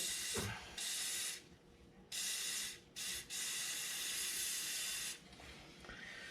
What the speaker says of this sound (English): I just take my spray and I do it over a towel, and I just spray it off with oil